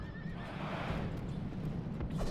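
Cavalry horses in Rome Total War whinny during a battle against Persian cavalry and horse archers, a drawn-out neigh rising over a dense rumble of hooves and battle noise, with no speech over it.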